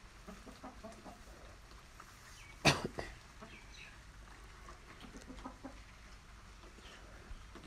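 A single short clucking burst from an Aseel hen sitting on eggs, near the middle, otherwise quiet background with faint ambient noise.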